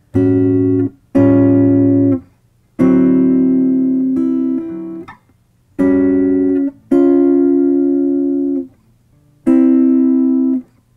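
A clean electric guitar plays a short jazz blues melody of sustained notes in separate phrases, each ringing out then stopping, with brief silences between.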